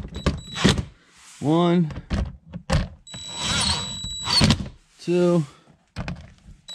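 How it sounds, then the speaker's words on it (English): An impact wrench drives 10 mm bolts into the splash guard of a 2016–2018 Nissan Altima: two short whirring, rattling bursts, close by, with a man counting aloud between them. "I'm just going to lightly shoot them in with the impact"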